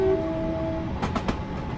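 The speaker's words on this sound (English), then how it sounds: "Oh, there's another train." A passing train in the Train Simulator 2022 game, on a Class 444 run between Portsmouth and Haslemere, rumbles steadily with a tonal hum and brief horn-like bursts near the end, with no talking.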